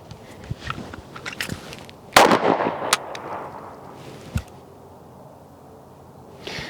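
Pistol shots at an outdoor range during concealed carry draw practice, a sharp loud report followed by a quick second shot, then a fainter pop later, with no talking.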